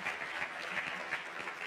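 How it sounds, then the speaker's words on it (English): Church congregation applauding during a worship service, a soft, even patter of many hands clapping at a moderate distance, continuous throughout. "Let's give the Lord one more praise clap for her."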